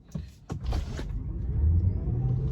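Tesla electric car pulling away under hard acceleration, a low rising rumble of road and motor noise with a faint whine, heard from inside the cabin, a few soft knocks near the start.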